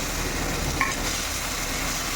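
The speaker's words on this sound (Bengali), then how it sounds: "জিরাটা আর লঙ্কাটা ভাজা হয়ে গেছে" Cumin seeds and dried red chillies fry in a pan of oil, giving a steady, even sizzle that carries on without a break and with no voices over it.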